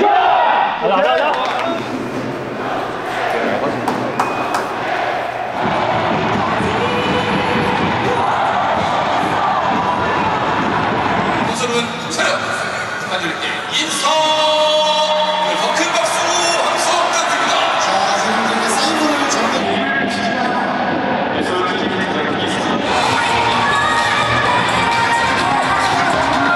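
A stadium crowd at a K League 1 football match between FC Seoul and Jeonbuk cheers and shouts continuously for nearly half a minute, a loud, dense roar with whoops and swelling surges throughout.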